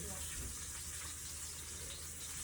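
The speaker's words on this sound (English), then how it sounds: "You can rinse them out with just a little bit of water." Running tap water pours steadily while food is rinsed in a kitchen sink, a faint continuous wash of water that stays even and quiet throughout.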